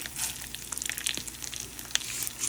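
Peeled garlic and coriander seeds fry in a little oil for a radish pickle tempering, giving a close, soft crackle with scattered tiny pops and ticks throughout.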